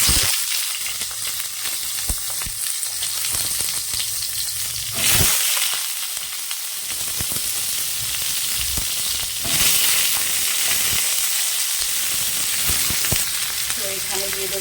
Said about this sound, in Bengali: দেখো এবার বেগুনগুলো ভেজে নেব